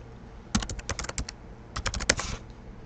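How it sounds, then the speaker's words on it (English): Quick bursts of typing on a computer keyboard, close and crisp, two short runs of rapid key clicks separated by a brief pause, with no voice. "And you just type the category in."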